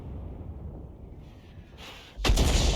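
An SU-5 self-propelled artillery piece fires a shell in a tank combat game, a single loud booming blast arriving suddenly after a quieter rumbling lull.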